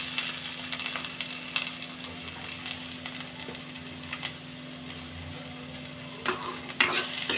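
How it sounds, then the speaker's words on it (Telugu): Onions frying in the leftover oil from roasting peanuts for peanut chutney, a steady close sizzle with occasional stirring scrapes in the pan, alone without talk. "పల్లీలు వేయించిన ఆయిల్లోనే వేసి ఇవి కూడా ఫ్రై చేస్తున్నాను"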